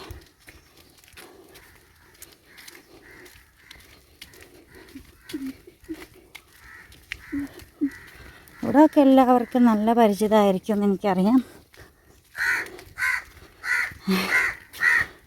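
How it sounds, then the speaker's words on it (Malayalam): Crows caw in a rapid, loud series near a village road in Kerala, with sparser calls before and after as someone talks over them. "കാക്കകളുടെ കരച്ചിൽ കേൾക്കുമ്പോൾ സത്യം പറഞ്ഞാൽ സങ്കടം വരും"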